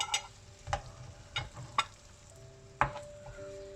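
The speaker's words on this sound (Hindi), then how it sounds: "अब इन्हें हल्का सा मिक्स करूँगी" A spoon lightly mixes coriander and mint into a breakfast dish in a pan, making several sharp clinks and scrapes at irregular intervals over a soft background sizzle, close and quiet with no talking.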